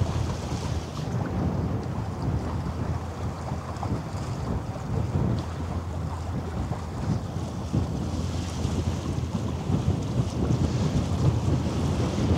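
Wind gusting at a harbour, steady rumbling buffeting across the microphone with washing water and boat noise underneath, continuous and fairly loud.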